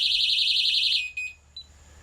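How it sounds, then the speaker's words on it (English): A Technaxx TX-100 motion detector alarm sounds a loud, shrill warbling siren for about a second, then cuts off abruptly, followed by a couple of short clicks and a brief beep in near silence. "This Technaxx car alarm is kind of cool"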